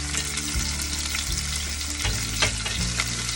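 Garlic, onion and tomato sauté in a hot pan with a dense, continuous sizzle and occasional stirring scrapes, loud and close with no talking.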